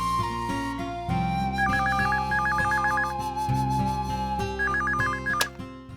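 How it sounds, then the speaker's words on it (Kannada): A telephone rings with repeated electronic warbling bursts over steady background tones and music, the trills coming in two clear groups, moderately loud and without talk over them. "ರಿಂಗ್ ಆಗ್ತಾ ಇದೆ."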